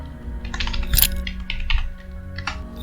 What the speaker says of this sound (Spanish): Después vamos a escribir aquí Rogelio